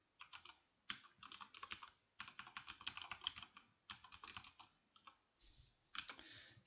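Typing on a computer keyboard comes in quick clattering bursts of key presses with short gaps between them, close and quiet.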